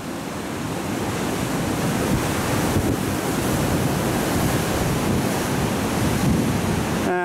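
Ocean surf breaking where a surfer struggles to paddle out, a continuous loud roar of waves with wind buffeting the microphone, no voices.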